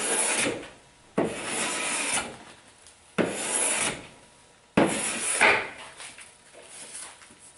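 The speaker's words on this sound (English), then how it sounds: "I'm just trying to take my hand plane and I'm just working the ends" Hand plane working across the ends of a wooden benchtop, four long rasping strokes, each starting sharply and trailing off, close and clear with short gaps between passes.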